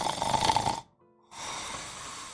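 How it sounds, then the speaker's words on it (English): Steady, rasping snoring from a sleeping person, loud and close, with a brief pause of near silence before the breathy snore resumes. "He's snoring"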